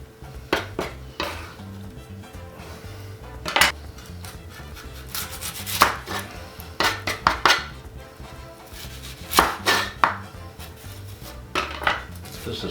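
A tender Vidalia onion being chopped on a board, irregular bursts of knife strokes and rubbing scrapes close by, loud and coming in clusters with short pauses between, no speech.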